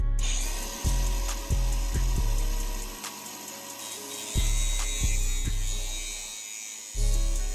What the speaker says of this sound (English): what I gotta do now is actually just cut down these screws right here